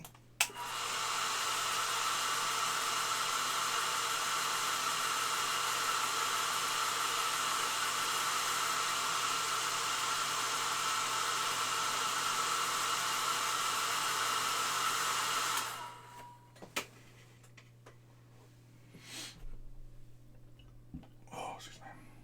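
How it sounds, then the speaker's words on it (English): A hair dryer blows steadily for about fifteen seconds to dry paint on a Funko Pop Warhammer 40,000 figure, a loud constant airy roar that then cuts off, leaving faint handling noises. "Screw it, let's use the dryer."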